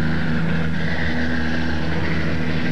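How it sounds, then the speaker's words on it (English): A 28-car field of Trans Am race cars idles with engines running on the front straightaway at Portland, a loud, continuous rumbling drone with a steady low throb. "So, engines are fired in a 28-car field here."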